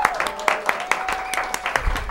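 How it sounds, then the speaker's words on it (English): A studio audience on a local El Monte talk show claps in a brief, scattered round of distinct claps, with a faint tone and low murmur behind it. "Let's hear a round of applause"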